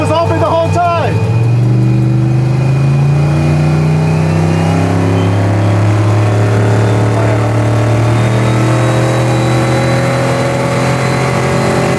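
Big-turbo 427 LSX V8 car engine pulling hard, a loud steady droning roar with a brief rev burst at the start, continuous throughout under occasional talk.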